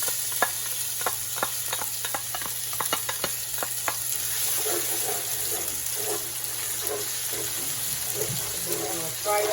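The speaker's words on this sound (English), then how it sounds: "I'm going to fry up the onions." Onions sizzling in a hot pan for a ground chicken and spinach lasagna, a steady close hiss with a run of sharp clicks and taps from stirring early on, and no talking.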